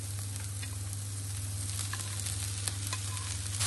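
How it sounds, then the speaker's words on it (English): Mediterranean vegetables frying in a pan as they are mixed together: a steady, moderate sizzle with occasional soft stirring scrapes over a constant low hum, and no talk. "Now I'm going to bring back the rest of the vegetables and mix it all together."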